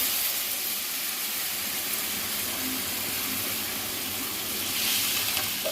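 Water is poured over vegetables frying for a Bengali mixed vegetable curry, and the hot pan answers with a steady hissing sizzle that swells briefly near the end.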